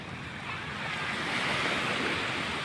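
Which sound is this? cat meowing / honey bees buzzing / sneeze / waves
waves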